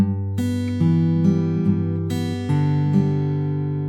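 Fingerpicked acoustic guitar strings ring out one after another in a slow pattern, notes sustaining and overlapping, close and fairly soft.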